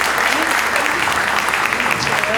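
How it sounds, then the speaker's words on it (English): An audience at an entrepreneurship Q&A event gives a round of applause, a full, steady clapping from many hands close by that fills the whole moment. "Give them a round of applause."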